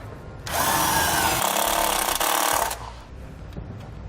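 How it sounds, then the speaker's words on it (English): A power drill drives a self-tapping screw into the sheet metal of a 2016 Jeep Grand Cherokee while a diode wiring kit is grounded. One loud, close whirring and grinding burst lasts about two seconds, then drops to quiet room tone. "We'll now use the provided self-tapping screw to secure it to the sheet metal."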